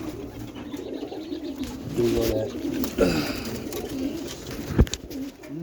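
Roller pigeons coo softly in a dark loft at night, low throaty burbles coming in short bursts, with someone talking quietly over them and a few handling bumps.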